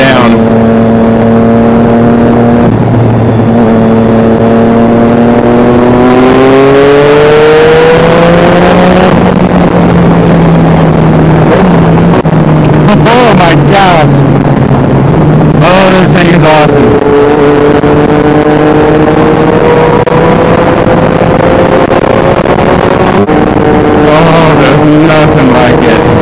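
A Triumph Daytona 675R track bike being ridden, its engine loud and close, revving up through gears with quick-shifter changes marked by sharp breaks and rising pitch, plus wind buffeting, with a rider's voice heard at times.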